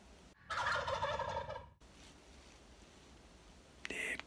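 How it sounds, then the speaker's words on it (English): Wild turkeys gobble in a field: one loud, rapid rattling gobble close by, then a quieter pause and a brief second call at the end, with no talking. "when I got into this field, there was some turkeys right there"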